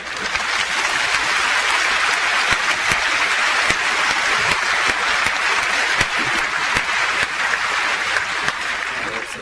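A large audience at the Munk Debate on state surveillance breaks into sustained applause, a dense, steady wash of many hands clapping at full volume from start to finish.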